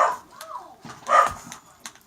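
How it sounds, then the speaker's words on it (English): A couple of dog barks sound at moderate distance, with a whimpering tone, amid other background noise. "Dogs are barking."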